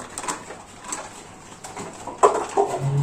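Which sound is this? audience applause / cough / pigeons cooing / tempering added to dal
pigeons cooing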